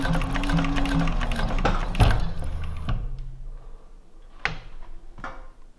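A leathercraft sewing machine runs a short burst of stitching with a mechanical whir, then a few separate clunks and clicks of the mechanism follow, close and moderately loud with no talk.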